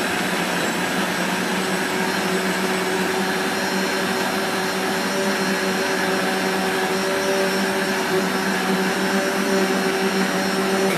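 A kitchen blender purées cooked vegetables for a keto meal, a loud, steady motor whir with a broad grinding hiss that runs unbroken from start to finish, with no talking.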